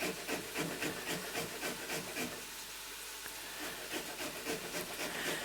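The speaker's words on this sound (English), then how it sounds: "And then you just grate. You want it on a coarse grater," Broccoli stems grated on a coarse grater, a rapid rhythmic rasping scrape repeating in quick strokes, close up and continuous without speech.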